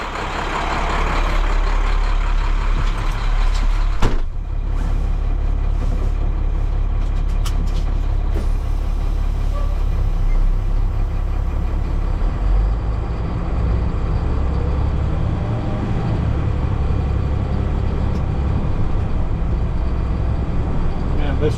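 A heavy snow plow truck engine rumbles steadily at close range during a winter storm, a continuous low drone with road noise, no pauses, running the whole time.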